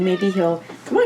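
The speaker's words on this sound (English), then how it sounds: "If you hear some meowing," An 11-year-old indoor cat meows near the start, a short tonal cry with a rising call toward the end, overlapped by a person speaking softly nearby.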